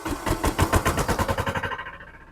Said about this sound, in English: you fire it up. It's a diesel, so you wait for the glow plugs